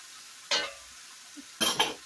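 Shrimp and chicken stir-fried with zucchini in a wok over modest heat, two short bursts of sizzling scrape and clatter as the food is tossed, separated by a quiet gap.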